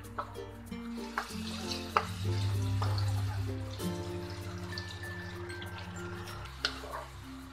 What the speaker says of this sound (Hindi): और इस तरह का प्याज तलने के लिए हम इसको बराबर चलाते रहेंगे